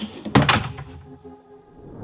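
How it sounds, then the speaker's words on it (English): An indoor door pulled shut by an automatic door-closer gadget makes a loud, close pair of thuds as it swings in and latches, followed by quieter rattling and room tone. "it closes with enough force to be able to actually latch the handle of the door on its way out"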